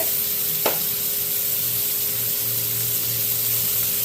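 Butter sizzles steadily in a HexClad frying pan, a broad crackling hiss that holds evenly throughout with a brief sharp clink early on, no voices present.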